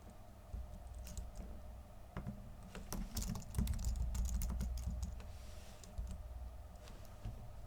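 Keyboard shortcut keys on a MacBook pressed in quick, scattered taps, faint soft clicks over a low steady room hum.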